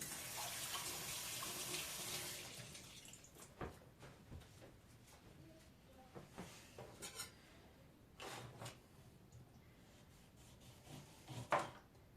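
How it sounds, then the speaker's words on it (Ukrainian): A lemon rinsed under a running kitchen tap, with a hiss of flowing water at first, then quieter splashes, drips and small knocks, faint and close. "зараз мию лимонку додаю"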